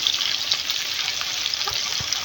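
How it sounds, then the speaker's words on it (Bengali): Chopped onion sizzles in hot oil in a pan while a Chuadanga-style rohu fish in mustard is being cooked: a close, steady, bright frying hiss with no talking. "এই পেঁয়াজটা কিন্তু বেশি একটা ভাজা লাগবে না"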